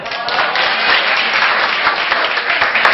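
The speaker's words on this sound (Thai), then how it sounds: "เดี๋ยวเรามาปรบมือให้กับคนที่ได้คะแนนท็อปหน่อย" Steady applause for the top-scoring student in a Thai classroom, dense and continuous from start to end with a few voices mixed in.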